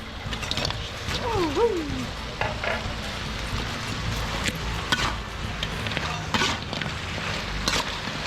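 Fish frying in a pan, a steady crackling sizzle running throughout with scraping and stirring clatter on top, while people talk nearby.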